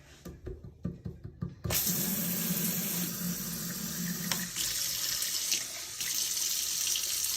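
Water runs steadily from a tap into a container while making a jailhouse spread, a loud continuous rushing pour after a few soft knocks at the start, close and without speech.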